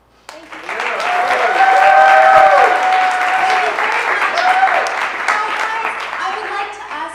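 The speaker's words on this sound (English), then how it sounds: "It's my pleasure to introduce Polly, our public speaking coach" An audience claps for a public speaking coach just introduced at a speaking event, the applause swelling quickly and holding full before tapering, with some voices and tonal sounds mixed in.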